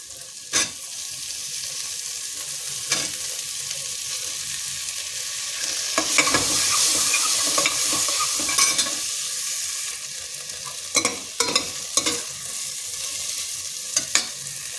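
Vegetables and potato stir-fried in hot oil for a cracked wheat khichdi, a steady close sizzle broken by sharp scraping spatula strokes in a pan, with no voices.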